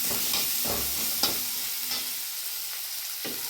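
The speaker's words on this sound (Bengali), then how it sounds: "দেখো বন্ধুরা, পেঁয়াজ রসুনটা সুন্দর ভাজা হয়ে গেছে।" Onion and garlic fry in a pan with a close, steady hiss and sizzle, dotted with a few brief stirring scrapes and no talk.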